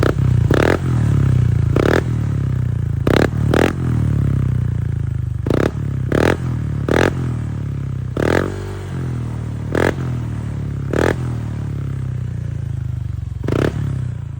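A Honda Click scooter fitted with an Apido aftermarket exhaust pipe revs loudly nearby, its steady engine drone broken by repeated sharp crackling bursts from the pipe.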